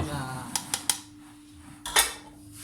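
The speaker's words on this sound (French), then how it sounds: "Allez, on tamise gentiment." Flour mixed with baking powder is sifted for a marbled savane cake, giving a few short taps and scrapes of a metal sieve in a kitchen, close and moderately loud.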